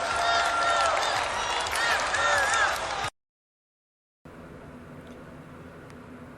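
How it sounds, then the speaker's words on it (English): A crowd at the Republican National Convention chanting "Lock her up," a loud, massed roar of many voices with whistles and cheers, then it cuts out abruptly to silence before a quieter, more distant crowd murmur returns. "The crowd there at the RNC yelling "Lock her up""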